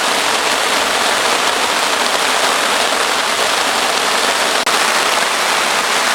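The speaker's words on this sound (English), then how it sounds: "It is hailing, it is raining." Hail and rain pounding on a tarp at a lakeside campsite, a dense, loud, unbroken hiss of impacts close overhead, with no voices.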